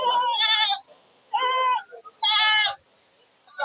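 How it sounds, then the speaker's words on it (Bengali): Totapuri mother goats at the Gas Line livestock market let out three loud, close bleats, each about half a second long, with short quiet gaps between them. "গ্যাস লাইন হাটের সুন্দর দুটি তোতাপুরি মা ছাগল।"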